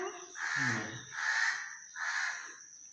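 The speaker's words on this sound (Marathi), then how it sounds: "कावळा तर रात्र चालू वरडायला" A crow caws three times in a slow, drawn-out rhythm, loud and close, each call harsh and nasal.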